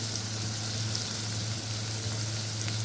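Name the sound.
onions frying with curry leaves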